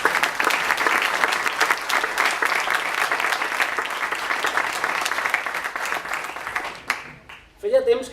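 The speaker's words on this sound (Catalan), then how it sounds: "Un fort aplaudiment per als pròxims 2 regidors," Audience at a political gathering applauding two incoming councillors, steady loud clapping from a crowd that continues for several seconds before breaking off, followed by a voice starting to speak.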